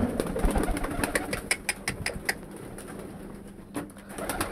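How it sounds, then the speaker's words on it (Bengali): Lotan pigeons in a pigeon loft coo with repeated soft, throaty calls at close range, accompanied by scattered wing flutters and shuffling sounds. "এই যেগুলো হচ্ছে আমার লোটন কবুতর।"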